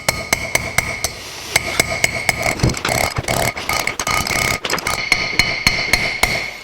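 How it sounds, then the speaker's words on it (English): A hammer drives a bearing race down into a brake rotor through a driver tool while working on a 1949 Chevrolet gasser. The close, sharp metallic strikes come in a steady series of roughly fifteen, with brief irregular pauses and no talking. "you take your new tool and you put it on top of it, and now you can tap again."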